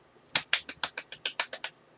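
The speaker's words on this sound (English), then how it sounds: "every time it's said, I clap my hands" A single person claps their hands about ten times in a quick, even rhythm, each crisp, close slap sharply separated by brief silence.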